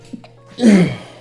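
A single sharp sneeze bursts out near the end after a couple of small breaths, close and loud.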